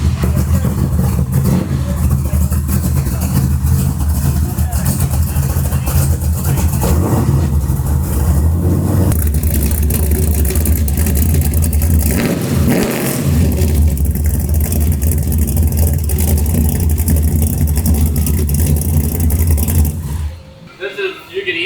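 A 1991 OBS truck with a T-trim blower and full exhaust runs loud and close, its heavy rumble rising and falling in repeated revs with a brief dip midway, while people talk over it.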